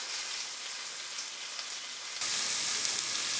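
Kielbasa slices fry and brown in a pan, giving a steady, dense sizzle that grows louder and brighter partway through, with no talking.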